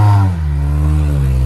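A 2005 Honda Civic Si EP3 with a cat-back exhaust revs up close, then drops to a deep, steady droning idle, loud throughout.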